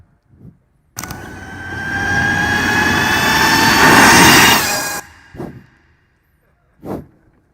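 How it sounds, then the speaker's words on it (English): An Ultraviolette F77 electric motorcycle sweeps past with a loud, rising whine and rushing air that builds, peaks, then cuts off abruptly, followed by two short faint thumps. "Let's look at a flyby of the bike."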